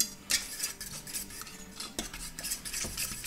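A utensil stirs a homemade chicken sausage mixture in a pot, giving light metallic clinks and scrapes in an uneven rhythm, close and quiet, with no talking.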